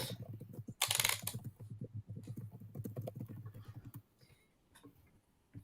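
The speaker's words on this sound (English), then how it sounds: "Somebody's typing just sounds like little mice scampering across." Rapid, light clicking of someone typing on a computer keyboard, a quick irregular patter of keystrokes close by that stops partway through, leaving faint scattered clicks.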